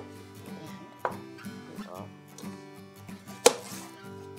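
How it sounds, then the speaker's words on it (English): A knife chops onions on a cutting board in a few uneven strikes, the sharpest one sounding near the end, close and moderately loud over a faint background hum. "I'm gonna take it a step further and cut those"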